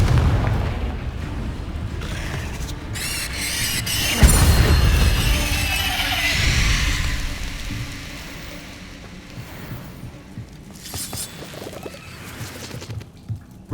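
A Confringo fire spell bursts with a heavy booming blast in Hogwarts Legacy combat, set among rumbling, crackling game effects; the loudest hit lands near the middle, then the noise tails off into scattered smaller impacts.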